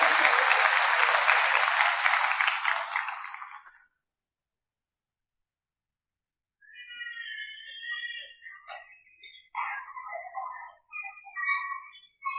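Audience applause at a chartered accountants' convocation ceremony, dense clapping for about four seconds that fades out, then a pause followed by scattered softer clapping and faint sounds.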